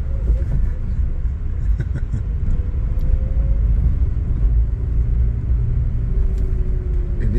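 A Daihatsu Xenia exhaust idling roughly, a loud, close, low rumble with an uneven pulsing beat that never settles, while people talk over it.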